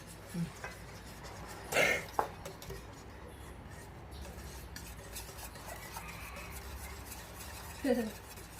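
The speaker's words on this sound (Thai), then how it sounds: "แล้วก็คนไปเรื่อยๆนะครับให้เขาเข้ากันนะครับ" A spoon stirring a sweet sandwich drink mixture in a pot, soft scraping and clinking against the metal with a few louder knocks, fairly quiet and close, while people talk in the background.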